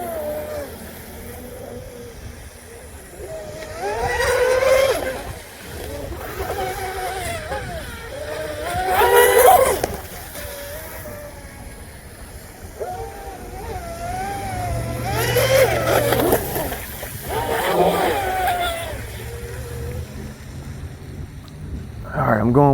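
A twin-motor Deltaforce 29 radio-controlled boat runs on its props, a steady whining motor drone that rises and fades over wind noise, with a voice talking over it at times.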